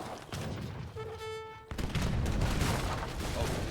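Light cannons taking heavy fire in the strategy game Age of Empires III, a volley of gunfire and booms with a brief tonal ring, then a dense loud clatter of shots and impacts.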